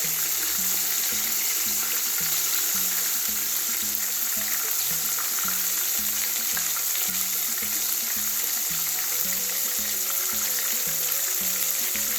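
Cod fish frying in hot oil, Caribbean style, gives a steady broadband sizzle with a regular low pulsing thump throughout, close and continuous with no talking.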